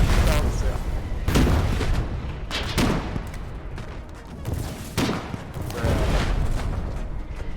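Gunfire and explosions from a Foxhole battle on frozen Tempest Island come as repeated loud booms and shot bursts over a constant rumbling din, mixed with players talking.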